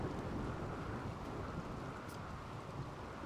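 Stormy ambience from the RimWorld colony game during a lightning strike: a steady, loud broadband rumble of thunder and rain-like noise that holds through the whole stretch, with no distinct crack standing out.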